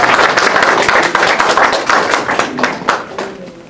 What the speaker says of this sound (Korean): 세 분께 다시 한번 뜨거운 박수 한번 부탁드리겠습니다.